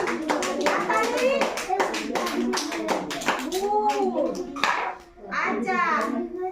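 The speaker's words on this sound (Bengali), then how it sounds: "টমেটো হাততালি দাও। হাততালি হাততালি হাততালি।" Preschool children clap their hands in quick, uneven bursts at an activity session, close and fairly loud, while an adult and children talk over the clapping.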